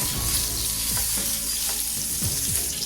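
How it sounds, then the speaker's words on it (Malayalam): Ingredients frying steadily in a hot pan, with a continuous close sizzle and occasional soft scraping as they are turned, no voices. "ഇതെല്ലാം നല്ലോണം ഫ്രൈ ആയിട്ടുണ്ട്"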